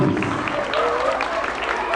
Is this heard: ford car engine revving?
no